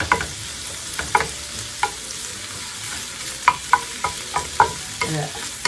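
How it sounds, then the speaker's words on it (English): Pancetta sautéing in a pan for amatriciana sauce crackles and sizzles, with sharp spoon-against-pan knocks from stirring every second or so, close up and no voices. "You just saute this for just a couple minutes"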